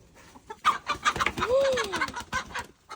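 Chickens clucking close by, a run of short bursty clucks with one drawn-out rising and falling squawk in the middle, no talking.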